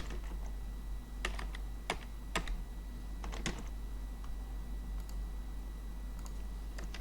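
Typing on a computer keyboard while entering breakfast, lunch and dinner options into a service form, scattered sharp key clicks in short bursts over a steady low hum, close and moderately quiet.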